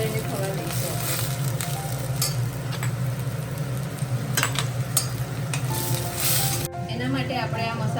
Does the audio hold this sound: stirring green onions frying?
yes